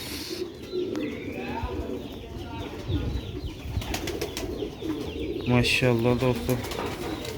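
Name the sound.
pigeons cooing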